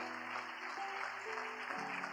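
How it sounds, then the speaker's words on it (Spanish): Church congregation applauding during a worship service, a steady wash of clapping that fills the whole clip, with sustained musical tones running underneath. "damos un aplauso al Rey bendito."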